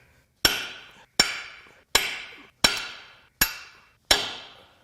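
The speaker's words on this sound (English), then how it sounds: "I'm gonna use my long punch, try to deform the head so that I can put a different socket on it" Six evenly spaced, sharp metallic hammer strikes on a long punch driven against a bolt head during a teardown of a 2019 Ford F-150 3.5L EcoBoost with major engine failure, each ringing briefly before the next, close and clear with no talk.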